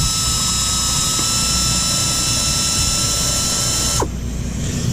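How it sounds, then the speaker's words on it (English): A drill grinds steadily through a rivet in aircraft sheet metal, a loud continuous whine with a strong tonal edge that cuts off sharply near the end, leaving a quieter hum. "I'm going to go ahead and I'm going to drill out all these rivets"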